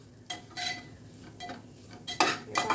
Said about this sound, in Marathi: आता आपल्याला 1 वाटी खोबऱ्याचं खीस घालायचं आहे, तो पण असा परतून घ्यायचा आहे।